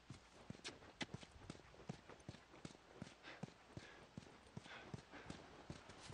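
Horse hooves clip-clop at a walking pace in the PS3 video game The Last of Us, a regular series of sharp, fairly close knocks over quiet ambience with faint background sounds.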